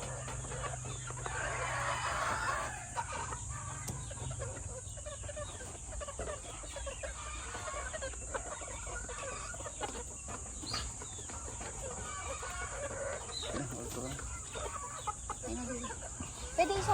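Gamefowl chickens of Sweater, Roundhead and Kelso bloodlines cluck in an outdoor breeding area, faint scattered calls spread across a noisy backdrop, with someone speaking over them.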